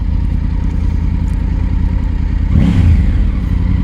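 A Triumph Tiger 900 GT motorcycle engine runs at a steady, loud idle-like drone, then revs up sharply around the two-thirds mark with a rising swell before settling back, close and alone with no talking.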